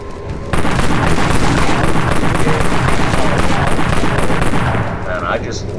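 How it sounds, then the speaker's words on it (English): A shotgun fires in a video game amid a dense, loud wash of rapid gunfire and booms that runs steadily for several seconds before easing slightly near the end. "I just love this shotgun"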